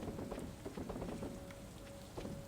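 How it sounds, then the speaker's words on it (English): Rain in the farming video game Stardew Valley, a soft continuous patter of drops falling at a gentle, even pace, quiet and with no voices. "Oh, thank God it made it rain."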